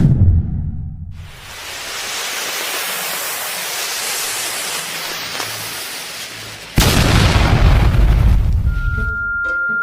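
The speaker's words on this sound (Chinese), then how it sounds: "炸药爆炸之后，那面城墙直接被崩塌。" A gunpowder blast collapsing a city wall in an animated scene: a long roaring rumble of debris, then a second heavy boom that lingers and slowly fades, with no voices.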